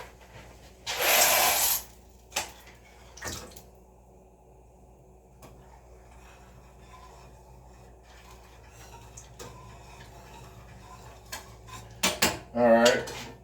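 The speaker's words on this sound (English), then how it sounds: "Had to stir my noodles in here." Noodles are stirred in a metal pot, opening with a loud burst of clattering scrapes. Quieter knocks and faint movement follow, and a second cluster of metallic scrapes and clinks closes the sequence, with no talk.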